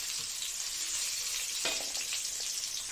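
Onion fries in a pan with a steady, close, moderately loud hissing sizzle, broken by one brief sharper burst partway through.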